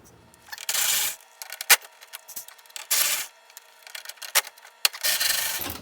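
A 10mm socket turns bolts on the front bumper of a Toyota GR Corolla, giving short bursts of gritty ratcheting and rubbing close up, separated by pauses and sharp metallic clicks.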